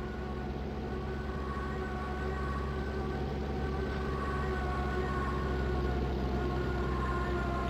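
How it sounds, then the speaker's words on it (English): A Stuka dive bomber's Jericho siren in a World War II online video game wails continuously at a steady, loud level for several seconds, layered with a dense mechanical roar and no speech. "I love that sound, that Jericho siren."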